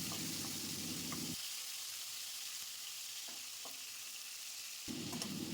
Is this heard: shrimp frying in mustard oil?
yes